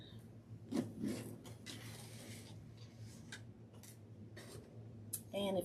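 Scissors snip ribbon for a craft bow, giving quiet, sharp cuts and rustling scrapes scattered through a faint scene, with brief vocal sounds near the end.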